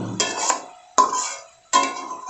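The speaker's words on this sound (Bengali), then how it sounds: "খুন্তি দিয়ে আবারও মশলাটাকে সব চিকেনে মাখিয়ে নেব।" A metal spatula scrapes and clinks against a pan while working spice paste and cumin powder into chicken leg pieces for a Bengali curry, three distinct strokes each starting with a sharp metallic scrape that trails off, close and clear.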